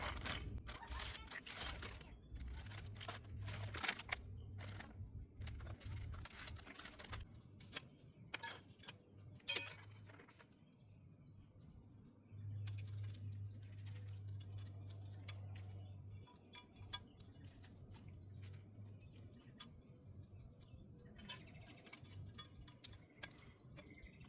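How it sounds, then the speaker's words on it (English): Small metal brake pad clips are pried out and pressed into place on a 2013 Chrysler 200 brake caliper bracket, making scattered faint clicks, ticks and scrapes with an intermittent low hum in the background. "Open and replace the old pad clips with the new ones."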